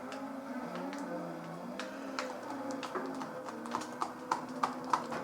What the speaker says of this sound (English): The squeaking is tires and the cold lift mechanism